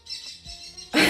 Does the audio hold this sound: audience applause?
no